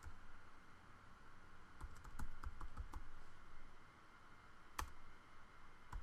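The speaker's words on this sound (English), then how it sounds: "I'm going to type some content into these other cells." Quiet, close typing on a computer keyboard in irregular clusters of soft key clicks with short pauses, heard alone in a still room.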